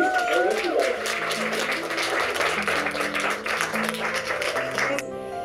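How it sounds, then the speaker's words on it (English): Audience applause fills a hall at a talk, a dense steady wash of many hands clapping at moderate loudness that continues for several seconds and drops away abruptly near the end. "So let's give her a big round of applause."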